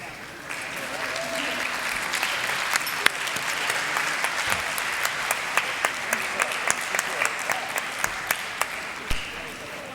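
Applause for the winning teams at a trivia challenge awards ceremony, a steady crowd clapping in a room for about ten seconds, with a few louder individual claps standing out and scattered voices underneath.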